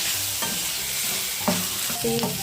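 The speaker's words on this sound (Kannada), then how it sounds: "ಈಗ ಇದಕ್ಕೆ ಕ್ಯಾಪ್ಸಿಕಮ್ ಹಾಕ್ಕೊತಾ ಇದ್ದೀನಿ. ಇದನ್ನು ಫ್ರೈ ಮಾಡ್ಕೊತಾ ಇದ್ದೀನಿ." Capsicum frying in a pan for gravy gives a steady sizzle with a few clicking stirs of a spoon against the pan, close and without talk.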